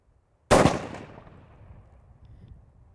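A single loud rifle shot fired at a target 100 yards out during outdoor shooting practice, with a sharp crack followed by a long rolling echo that fades over a few seconds.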